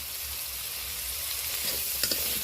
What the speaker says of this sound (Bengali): এই পর্যায়ে আমি বেটে রাখা আদাটা দিয়ে দেব।